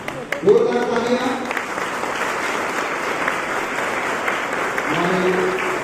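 A seminar audience at a youth leadership training breaks into loud, sustained applause, a dense wash of clapping that carries on after an announcer's voice, which returns briefly over it near the end.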